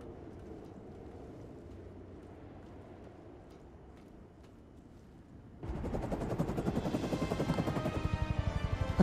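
A helicopter in the video game Hitman 3 starts up midway through, its rapid rotor chop pulsing loud and close over a quieter background rumble.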